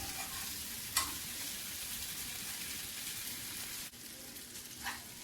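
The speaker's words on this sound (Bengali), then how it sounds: "এটা নেড়ে ছেড়ে রান্না করে নেব।" Dried fish (shutki) and jute leaves are stir-fried in a pan, giving a soft steady sizzle with a few sharp scrapes of the stirring spoon against the pan.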